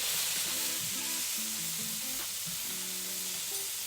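Steak sizzles and fries steadily in a hot pan, a continuous close hiss with faint tonal background music running beneath it.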